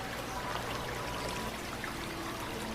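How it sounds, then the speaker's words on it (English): Water pours steadily onto a rock to fill an aquarium tank, a continuous close splashing stream with no pauses. "It's time to fill it up"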